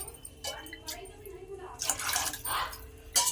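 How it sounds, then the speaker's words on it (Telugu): Water splashes and gurgles in bursts as four glasses of it are poured into a pot for sago vermicelli payasam, with quieter pauses between the pours. "ఫోర్ గ్లాసులు వాటర్ పోసుకోవాలండి"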